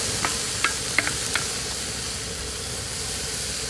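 Broccoli, cauliflower and carrots being stir-fried on an outdoor disk cooker give off a steady soft hiss, broken by a few light scraping clicks near the start before settling into an even sizzle.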